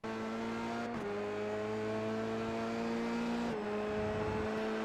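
A Dallara F3 race car in the iRacing sim holds a loud, steady engine drone at full throttle, with two quick gear changes that briefly dip the pitch before it climbs again.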